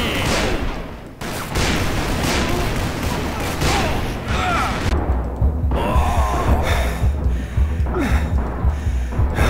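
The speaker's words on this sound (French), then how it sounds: "Attends, des tirs." Gunfire in the Western shooter Call of Juarez: Bound in Blood, with bursts of rapid shots and sharp cracks over noisy combat, mixed with gasps and heavy breathing from the characters.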